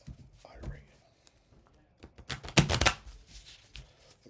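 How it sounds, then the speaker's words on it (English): Playing cards being shuffled in a couple of quick riffling bursts near the middle, close and crisp, with faint rustling and handling noises around them and no talk. "I just want to make sure I shuffle real well."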